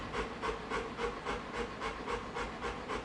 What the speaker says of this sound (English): I'm hearing breathing noises because I just took my dog out for a run.